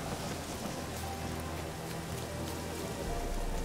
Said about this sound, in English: I would rather it not be raining